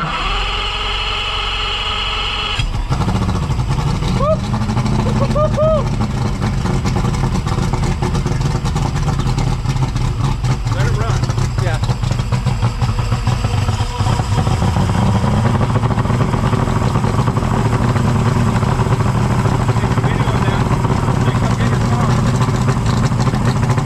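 A Yamaha 150 two-stroke outboard engine runs steadily after a carburetor rebuild, loud and close, with a continuous droning idle that persists unbroken throughout.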